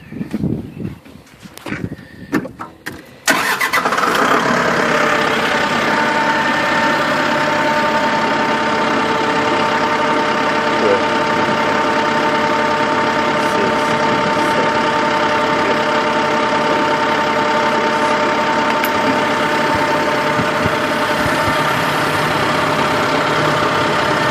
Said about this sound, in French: Fait que je vais partir le tracteur, on ne s'entendra plus.